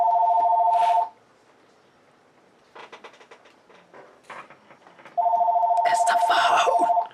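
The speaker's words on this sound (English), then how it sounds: "It's the phone!" A telephone rings in the Anime Studio Simulator video game, a loud electronic trill that sounds for about a second, gives way to quiet game sounds, then rings again for the last two seconds.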